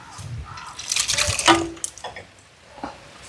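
Liquid poured into a pot of cooked lentils, vegetables and tamarind for sambar: a short, soft splashing pour swells in the middle and then trickles off, close by with no talk.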